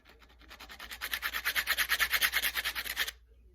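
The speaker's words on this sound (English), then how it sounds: "Take some sandpaper there and just fix that." Sandpaper rubbing back and forth over the bent tip of an obsidian knife, a close, steady run of quick rasping strokes that builds for about two seconds and then stops.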